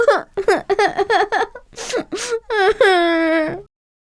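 A cartoon pig cries in sobbing, whimpering bursts that end in a long drawn-out wail, loud and close.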